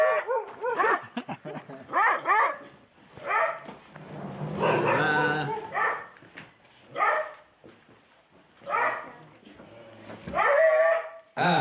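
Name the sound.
hunting dogs barking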